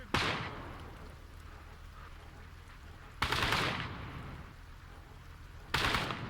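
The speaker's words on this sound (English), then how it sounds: "And who's being shot at?" Gunfire from the video game Call to Arms: Cold War Gone Hot, in a USSR versus China match: three loud bursts of shots, each sharp onset decaying over a second or two, spaced a few seconds apart above a steady background rumble.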